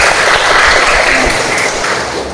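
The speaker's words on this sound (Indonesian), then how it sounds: "saya tepuk tangan untuk Farin." A crowd of people applauds in an indoor session, a dense steady patter of many hands clapping at once, loud and unbroken for the full stretch before easing slightly at the end.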